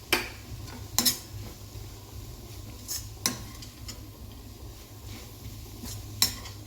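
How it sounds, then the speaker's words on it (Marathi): A spoon stirring carrot sabzi with fresh coconut and coriander in a pan, giving several sharp metallic clinks and scrapes at irregular intervals over a soft background. "आता ओलं खोबरं आणि कोथिंबीर याच्यात मी घातलेली आहे आणि घालून एकदा मिक्स करायचं आहे."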